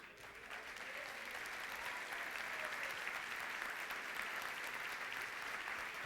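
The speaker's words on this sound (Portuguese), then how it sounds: "Tem que aplaudir mais forte" A church congregation applauds steadily during a sermon, a dense continuous wash of many hands clapping at even loudness throughout, moderately distant with no talk over it.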